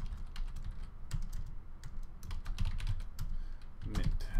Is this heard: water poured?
no